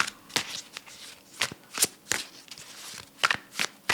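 A Tarot of the Witch's Garden card deck is shuffled by hand, several brisk riffles and soft card slaps in an uneven rhythm, close and fairly quiet, no talking.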